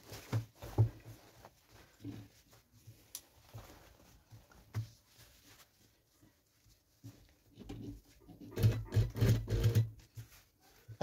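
An electric sewing machine stitches a coat pocket in short bursts of rapid rattling: one near the start, a few faint taps in between and a louder, longer run near the end, separated by quiet gaps.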